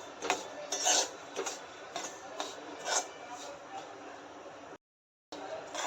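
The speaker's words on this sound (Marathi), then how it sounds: "रवा व्यवस्थित भाजला तरच आपला उपमा चव चविष्ट होईल त्यामुळे रवा व्यवस्थित भाजून" Semolina (rava) is roasted on low heat in a pan for Maharashtrian-style upma, with a spatula scraping and stirring in soft, rhythmic strokes, faint and close, briefly dropping out near the end.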